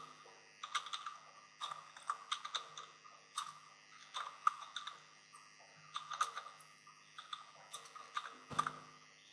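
Code is typed on a computer keyboard in uneven bursts of quick, crisp key clicks with short pauses between runs, close and fairly quiet, with no voices.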